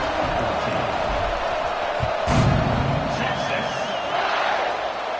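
A college football stadium crowd at an FSU versus Texas game roars steadily at kickoff, a dense wash of cheering with a brief louder surge midway, while a commentator talks over it.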